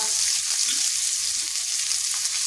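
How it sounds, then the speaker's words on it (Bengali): Ginger, garlic and green chili frying in oil in a pan, a loud, dense, continuous hiss of sizzling heard up close, with faint occasional stirring knocks underneath. "এগুলো একটু ভেজে নিচ্ছি যাতে এর কাঁচা গন্ধটা চলে যায়"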